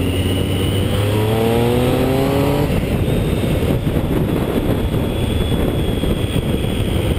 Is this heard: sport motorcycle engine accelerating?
yes